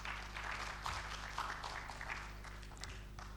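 Steady, faint applause from an audience at an engineering week opening ceremony in Abuja, a dense continuous patter of many hands clapping in a large hall, with a low hum underneath and no talking.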